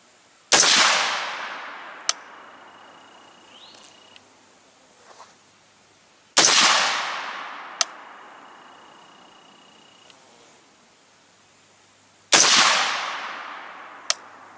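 Three loud, close rifle shots with Red Army Standard ammunition ring out at roughly six-second intervals, each a sharp crack with a long decaying echo, separated by faint clicks and small handling noises.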